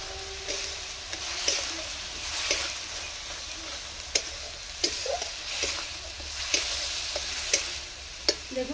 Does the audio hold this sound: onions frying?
yes